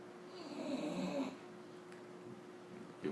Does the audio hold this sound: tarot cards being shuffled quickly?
no